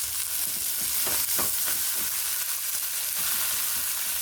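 Meat shoulder browning undisturbed in a skillet for a one-pot lasagna: a steady, close, broadband sizzle and crackle with occasional soft pops and scrapes, no voices.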